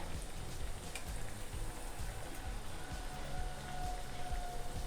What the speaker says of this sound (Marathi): ही चकली छान तळून घ्यायची आहे